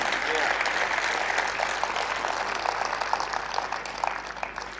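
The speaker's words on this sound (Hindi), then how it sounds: "पूरा सदन एक बार ताली बजा करके मुझे आदेश दे।" Audience at a university kavi sammelan, a Hindi poetry recital, claps together in a steady, dense wash that fills the room for several seconds and eases slightly toward the end, with no talk over it.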